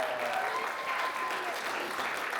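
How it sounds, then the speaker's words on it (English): An audience applauds at a convention voice-acting event, a soft, even patter of clapping heard from some distance without any break. "Yeah, that's around the applause."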